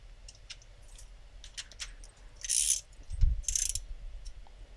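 Ratchet snugging injector bolts on a Land Rover Defender TD5 engine: scattered light clicks, then two short bursts of rapid ratcheting with a dull thunk between, close and without talk.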